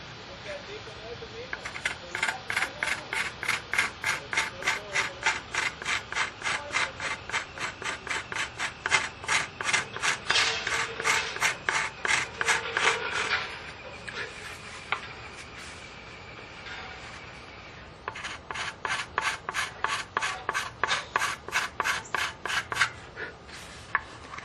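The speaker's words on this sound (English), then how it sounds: "This is just a curved scraper I put a little burr on." A curved card scraper with a burr rasps across the bottom of a turned wooden vessel in quick, steady rhythmic strokes, close and fairly quiet, pausing briefly midway before resuming.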